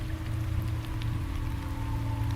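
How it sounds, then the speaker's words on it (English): Rain falls steadily in a dense, even hiss with a low rumbling undertone, continuous and fairly loud throughout, no voices. "Rain will fall."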